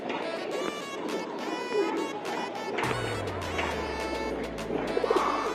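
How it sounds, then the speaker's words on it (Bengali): A pigeon coos repeatedly nearby in soft, throaty phrases, while a low engine-like hum starts partway through and continues steadily. "এই যে কবুতরটা ডাকতেছে"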